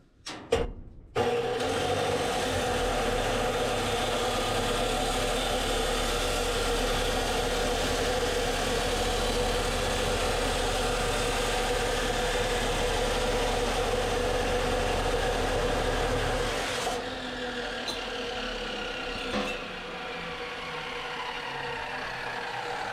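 An abrasive chop saw spins up and grinds steadily through steel pipe as a loud, even roar held for about fifteen seconds, then the blade winds down to a fading whir.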